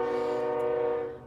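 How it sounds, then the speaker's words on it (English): A train's horn sounds in one steady, loud, sustained blast with rich harmonics, heard indoors during a Christmas crafting session and fading slightly at the end. "There's the train again."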